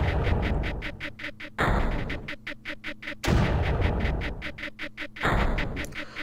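Mortar firing in the Creeper World video game, a rapid series of booming shots in repeated bursts, each volley made of quick punchy thumps, loud and close with no talking.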